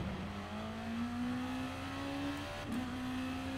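A race car engine in GT Sport, a steady droning whine holding pitch, dipping briefly and then picking back up as the car accelerates, heard fairly quietly with no talk.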